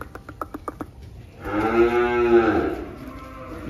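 A cow gives one long, loud, close moo after a few soft knocking sounds, heard at a cattle sale with no talking over it.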